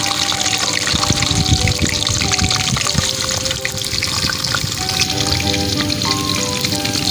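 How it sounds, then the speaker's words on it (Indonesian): Rice-field eels fry in hot oil in a steady, loud, crackling sizzle that continues without pause, with occasional pops and spatters and no talk. "Kita goreng belut Baraya"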